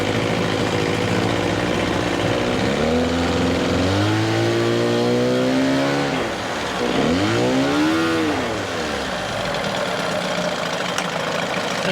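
A 1988 Johnson 9.9 hp outboard motor running in gear, a steady close engine drone that rises and falls in pitch through two revving swells before settling back to a constant run.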